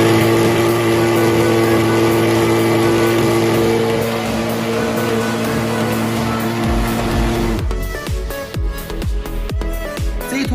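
A 120k fogging machine engine runs with a loud, steady buzzing drone for several seconds, then shifts into a rougher, pulsing chug with uneven bangs as it keeps running, close and alone without talk.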